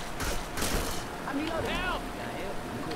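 Shotgun blasts in the Left 4 Dead 2 zombie shooter, fired at long range: a couple of sharp, loud bursts close together near the start, then other game noises.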